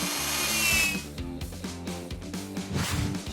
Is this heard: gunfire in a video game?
no